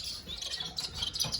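Pure white Japanese sparrows, or society finches, kept in a cage, giving soft, high, rapid chirps and twitters in a continuous faint chatter without any voices.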